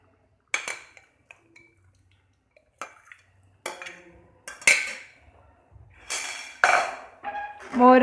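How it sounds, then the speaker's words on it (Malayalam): Buttermilk is added to a pineapple moru curry simmering in a pan at close range, with scattered clinks and short splashing pours that grow fuller and more sustained toward the end. "ഇനി നമുക്കതിലേക്ക് മോര് ചേർത്ത് കൊടുക്കാം."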